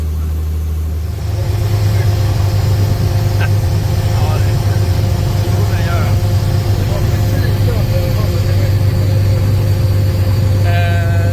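The newly refurbished engine of a Saab Safir aircraft runs during its first taxi in 14 years, held to 1500 RPM, a steady low droning hum close to the microphone that settles into an even tone after a brief rise.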